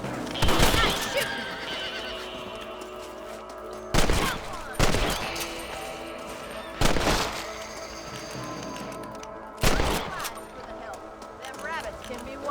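A horse in Red Dead Redemption whinnies amid clip-clopping hooves, broken up by several sharp, loud bursts that sound like gunfire, spaced a few seconds apart.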